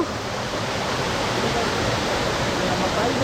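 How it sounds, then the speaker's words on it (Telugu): Boddugudem waterfall near Bhadrachalam in the Edugurallapalli forest, a loud steady broadband rush of falling water filling the whole stretch without pause. "ఫైనల్గా వాటర్ ఫాల్స్కి వచ్చేసాం."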